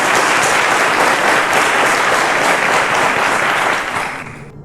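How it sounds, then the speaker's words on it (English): A studio audience on a televised quiz show claps steadily in dense, loud applause that fades out near the end. "A round of applause."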